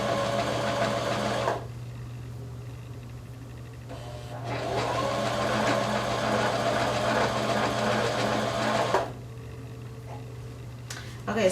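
An electric sewing machine stitches stretchy fabric for leggings, its motor whirring in two sustained runs separated by a brief pause over a constant low hum, then stopping near the end.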